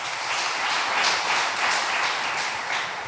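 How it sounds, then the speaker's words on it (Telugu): A church congregation at a Sunday service claps steadily together in praise, producing a dense, continuous wash of applause that fills the room at a constant level. "చప్పట్లో కూడా దేవుని స్తుతించండి."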